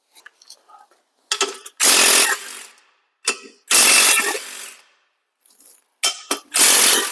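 A ratchet backs out 13 mm bolts from Jeep seat rails in three bursts of rapid, loud clicking close by, separated by short pauses and softer clicks.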